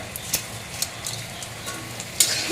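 Cloves, cardamom, cinnamon, two dried red chillies and two bay leaves fry in hot oil with a soft, steady sizzle, broken by a few light ticks and clinks from stirring.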